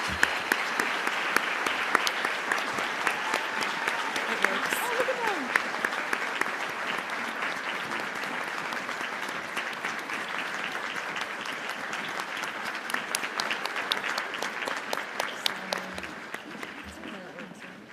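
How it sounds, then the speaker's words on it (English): A large audience at a Halloween royal ambassador coronation in Anoka, Minnesota applauds the candidates on stage, a dense, steady wash of clapping that carries on unbroken for the whole stretch, fairly loud and even. "Let's give them a round of applause"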